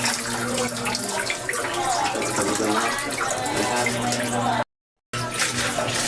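Tap water runs steadily into a sink as raw pork is washed for adobo, a continuous splashing hiss with a brief dropout near the end and no speech.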